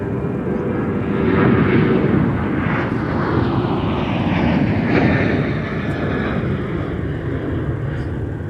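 An American Airlines airliner takes off from runway 30 left at Minneapolis–St. Paul, a steady, loud jet roar filling the air throughout, with a broad rumble swelling and easing slightly.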